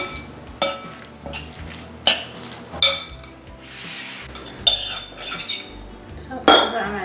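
Metal spoon clinking against a dish while stuffing of parsley, garlic and black pepper is spooned into baked brick pastry nests, a run of sharp close taps and scrapes with soft shuffling between.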